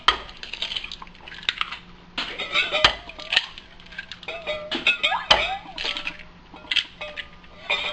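Eggs going into a bowl for a breading station, with irregular clinks and knocks of shells, bowl and utensils alongside quiet kitchen handling noises.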